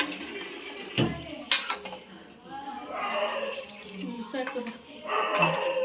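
Water is poured into a pot of mutton sambar, splashing in a few bursts against the metal with clinks of utensils, while people talk nearby.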